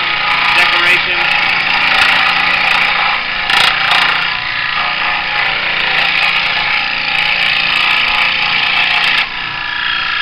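A power scroll saw cuts through wood with a loud, continuous, buzzy rasp that holds steady and close for the whole stretch, with brief dips where the blade eases off.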